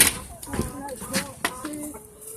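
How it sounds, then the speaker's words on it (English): A flock of ten backyard chickens clucks and murmurs softly at close range in short, overlapping calls, with a person talking over them. "So we got 10 chickens"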